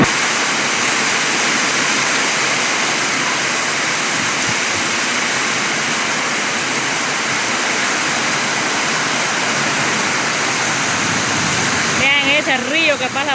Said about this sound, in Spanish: Vean ese río que pasa por aquí.